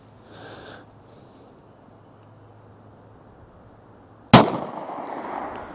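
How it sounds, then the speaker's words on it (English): A 9mm Sig P365 with a 3-inch barrel fires a single Winchester 147 grain white box round into ballistic gel. One sharp, loud shot comes after a quiet stretch and is followed by a decaying echo. "We're gonna start out with the 3-inch barrel on the P365 with the 147 grain Winchester white box."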